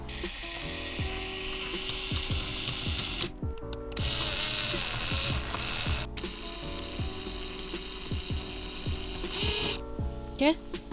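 A ratcheting tool tightens a stainless steel hose clamp that holds a mount to the handle in a Jeep Wrangler. Rapid, steady ratchet clicks run close and clear, with brief pauses between strokes.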